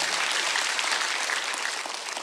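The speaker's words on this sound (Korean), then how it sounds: "박수 하세요." A congregation applauds during a Korean Sunday church service with dense, steady clapping filling the room for about two seconds.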